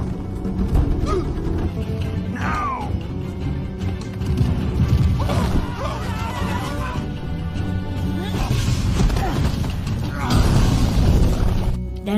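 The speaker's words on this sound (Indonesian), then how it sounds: "Dan para warga terus menyerang monster dengan petasan." Firecrackers bursting at a dragon monster in an animated Kung Fu Panda scene, dense cracks and booms layered over a busy film soundtrack with music and voices, continuous and loud throughout.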